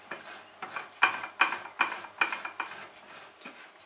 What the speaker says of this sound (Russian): Теперь на крупной терке натираем очищенный картофель.